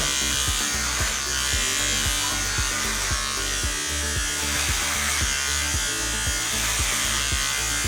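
Electric hair clippers cutting dry hair, a loud steady motor buzz running throughout with small repeated shifts in tone as the blade passes over and over the head, close up.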